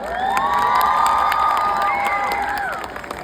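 Crowd cheering and applause at an outdoor concert in Mississauga, Canada, a loud continuous roar with high whoops and shouts rising over it, fading slightly at the end.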